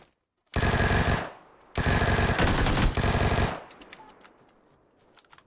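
Two long, loud bursts of rapid machine gun fire in a shooter game, separated by a short pause, then fading into faint scattered noise.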